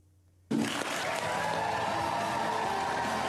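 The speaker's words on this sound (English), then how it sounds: "Family and colleagues applauding the Artemis II crew back on planet Earth." Family and colleagues burst into sustained applause for the returning Artemis II crew, a sudden dense wall of clapping that starts after a quiet moment and continues steadily.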